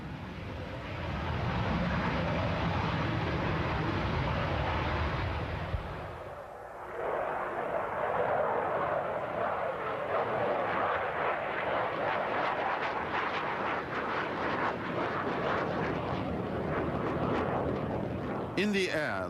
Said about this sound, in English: It is the first flight of the E-155, the prototype of what was to become the MiG-25.